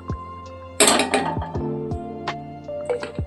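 A metal kadai is handled on the stove as ghee goes in for coriander chicken, bringing a few close metallic clanks and clinks followed by softer scrapes and taps, no speech over them.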